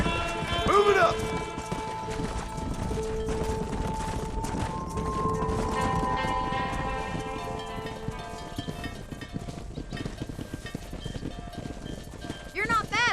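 Horse hooves clatter at a steady gallop while a rider herds cattle on a ranch in the Red Dead Redemption game, running throughout under spoken dialogue, with cattle sounds and bursts of noise around it.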